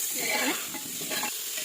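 Cauliflower and potatoes frying in a pan on a lowered gas flame: a steady close hiss of sizzling oil with quick stirring scrapes, alone without talk.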